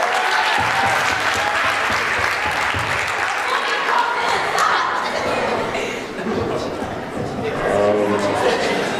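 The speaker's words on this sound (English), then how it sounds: "Everybody should give them a round of applause." An audience applauds a judge panel at an evening show, with dense sustained clapping mixed with chuckles and crowd chatter. A voice comes through near the end as the clapping carries on.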